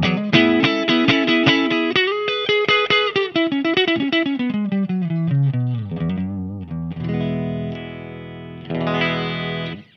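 A Fender '62 reissue electric guitar on its neck pickup plays a descending melodic line, then sustained chords, through a Laney L50H head and 4x12 cab, close and continuous.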